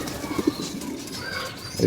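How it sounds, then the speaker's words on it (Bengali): Pigeons coo nearby in a short burst of soft low throaty calls, fairly close amid light background noise. "কবুতর এসে বসে রয়েছে"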